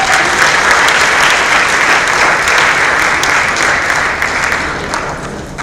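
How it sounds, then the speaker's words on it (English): A graduation ceremony audience in Dubai gives loud, sustained applause, a dense wash of clapping that holds steady before easing slightly at the end. "So another round of applause,"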